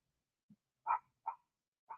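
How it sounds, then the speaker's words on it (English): An excited dog indoors gives a small whine followed by three sharp barks spaced about half a second apart, close by and clear against a silent background. "My apologies for the dog barking."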